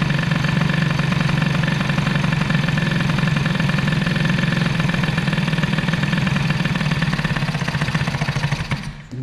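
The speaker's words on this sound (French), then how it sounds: "quand le moteur tourne très très bas en ralenti, le carburateur se fait secouer le prunier" A Motobécane 103 moped with an Airsal 65 air-cooled kit and a 21 carburettor, idling very low, a steady rough close-up putter running continuously before faltering near the end.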